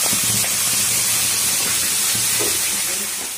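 Spinach paste hitting a hot pan while making palak paneer gives a steady, loud, broad hiss that fades slightly toward the end, with no voices over it.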